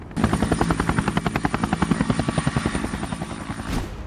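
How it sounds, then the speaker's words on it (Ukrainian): A Black Hawk helicopter lifts off under a grey sky, its rotor thumping in a fast, steady rhythm, loud and close, with a high engine whine running throughout and no voices. "Щойно останній штурмовик покидає борт, гелікоптер рве вгору і зникає у сірому небі."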